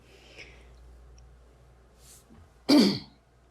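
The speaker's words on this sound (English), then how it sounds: "I had to clear my throat." A single loud, rough throat clearing close by, following a few soft breaths and near silence.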